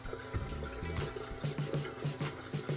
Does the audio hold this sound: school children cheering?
no